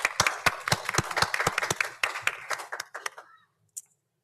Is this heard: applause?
yes